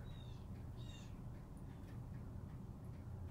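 A bird gives a few short, faint calls early on, standing out briefly over a low, steady outdoor background rumble.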